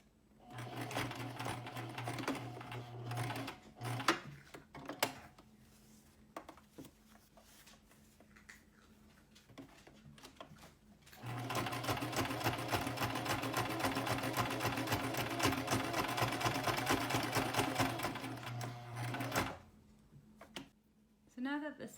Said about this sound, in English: sew it over there and over here to reinforce the front